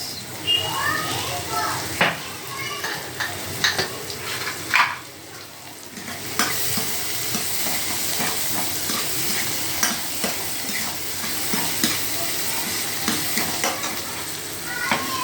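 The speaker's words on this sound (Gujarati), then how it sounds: "હવે એમાં થોડું મીઠું નાખીશું એટલે ડુંગળી અને એ સતળાઈ જશે સરસ" Onions sauté in a pan for paneer bhurji, a soft continuous frying sizzle under repeated spoon stirring and scraping against the pan, with occasional light knocks of utensils.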